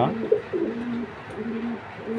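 A large male Belgian racing pigeon coos close by in a few low, soft, repeated phrases with brief pauses between them.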